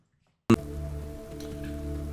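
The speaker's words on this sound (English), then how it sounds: "it's still raining cats and dogs" Rain in the video game Fallout London starts abruptly after a moment of silence, a steady close hiss of falling rain over a low ambient hum that continues evenly.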